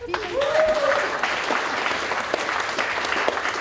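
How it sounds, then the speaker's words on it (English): Audience applause at the official opening of Tauranga's third water treatment plant, the Waiāri facility, steady dense clapping filling the clip with a brief voice near the start. "You can clap."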